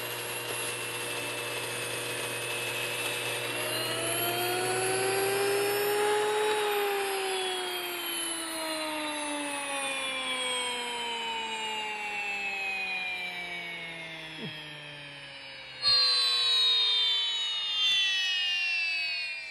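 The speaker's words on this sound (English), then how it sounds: "That's a very powerful mill, and it grinds over a pound a minute" A powerful electric grain mill grinds grain into flour for bread making with a loud, steady, jet-like whine whose tones glide downward as it runs, then jump up sharply near the end, with no talking.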